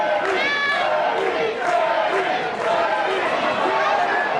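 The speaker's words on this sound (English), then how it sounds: "crowd coming alive for Larry Zbyszko" Crowd at an IWC professional wrestling event cheering and shouting in a rising, lively roar, with a voice talking over it.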